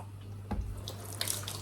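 Water is poured over the brakes of a Yamaha YZF1000 Thunderace motorcycle, splashing and trickling in short bursts over a low steady hum, with a brief gush near the middle and another spray toward the end.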